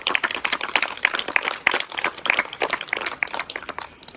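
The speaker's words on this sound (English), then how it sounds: "Give them a clap, guys." A school assembly crowd claps for grade 5 award winners, a steady patter of many hands, moderately loud and continuous with little talk over it.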